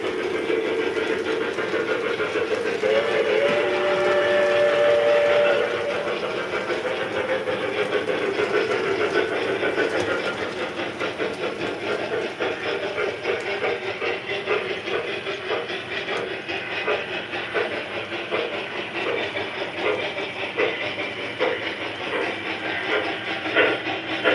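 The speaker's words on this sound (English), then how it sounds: "Chuff sounds good." A steam locomotive engine gives off a steady, fairly loud hiss of steam, and after a few seconds a faster rhythmic chuffing takes over and keeps pulsing close by until the end.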